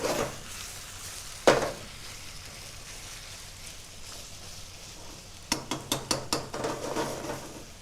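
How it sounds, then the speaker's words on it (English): Timpana sauce simmers in a pot with a soft, constant sizzling hiss, a sharp knock early on, and a quick run of metallic clinks and scrapes near the end, like a spoon stirring against the pot. "So we just let that simmer nice and slowly so it thickens up."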